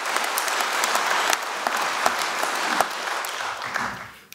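Applause fills a large hall at the Deutsche Telekom annual shareholders' meeting, a dense crowd clapping steadily with a few sharper claps standing out, then fading away at the end.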